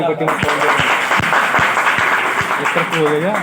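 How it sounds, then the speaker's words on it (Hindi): Children clap at a magic show, spaced individual claps ringing out under a loud, continuous spoken patter and crowd noise. "जादूगर बच्चे ताली बजाइए।"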